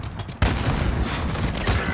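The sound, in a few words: Uzi gunfire in a video game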